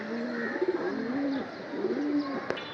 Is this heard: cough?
no